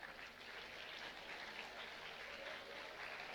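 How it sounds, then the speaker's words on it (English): Faint, distant audience clapping for schoolchildren at an inter-house science quiz, a soft continuous patter of many hands with a low room murmur beneath it. "you can carry on clapping for them."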